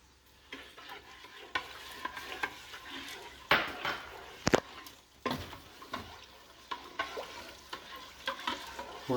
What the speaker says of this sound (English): And we'll keep stirring.